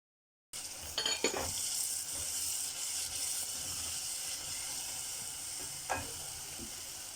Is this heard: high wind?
no